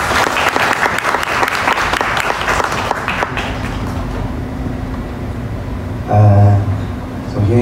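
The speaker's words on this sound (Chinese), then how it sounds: "那热烈的掌声欢迎李东导" An indoor audience at a calligraphy exhibition lecture claps warmly for a few seconds to welcome the guest speaker, then the applause tapers off into a quieter room with a brief louder sound near the end.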